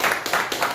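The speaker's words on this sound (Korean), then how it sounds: "우리 다 모아서 한번 박수합시다." A church congregation claps together in a short burst of applause, several quick rhythmic swells of hand claps filling the room, no voices over it.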